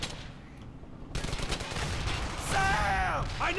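Gunfire crackles in the World War II shooter game Brothers in Arms: Hell's Highway, a quick burst of rifle and machine-gun shots followed by shouted voices over the battle.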